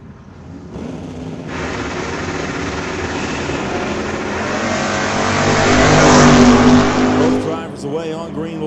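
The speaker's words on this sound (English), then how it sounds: "Away on green lights as Walker trying to chase down Piskacek to the quarter." At a drag strip bracket race, Chevrolet Chevy II drag cars launch on green and roar down the quarter mile, a loud sustained engine drone that swells then fades, with commentary over it.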